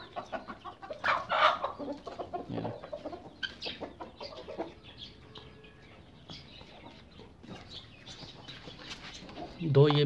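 Chickens cluck steadily nearby while people talk in the background, ending with a louder burst of clucking.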